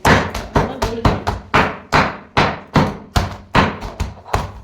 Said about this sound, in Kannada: ಈ ಕಲ್ಲು ತೊಗೊಂಡು ಜಜ್ಜಾಕ್ತೀನಿ ನೋಡ್ರಿ